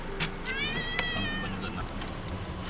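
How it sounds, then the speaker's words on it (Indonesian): A neighbour's cat gives a short, thin meow over a steady outdoor background hum with a few sharp clicks and bumps, heard somewhat distant. "Lain kucing tetangga."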